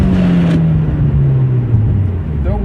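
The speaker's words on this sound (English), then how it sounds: "So fair warning, if you don't want to hear the grind sound, turn that volume down" Engine drone of a Hyundai Genesis Coupe with a failing transmission, pitch sliding down as it strains, and a harsh rasp near the start as it grinds shifting into sixth gear, loud and close inside the car.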